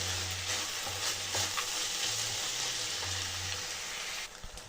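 Sweet poha is stirred and cooked in a pan, giving a soft continuous sizzle with scraping stirring strokes and low rhythmic clatter. The sizzle eases off near the end.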